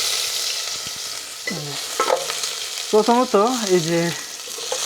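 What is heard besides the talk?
spices frying in oil in a pan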